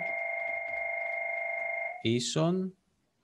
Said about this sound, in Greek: Συγγνώμη λίγο να κλείσω το τηλέφωνο.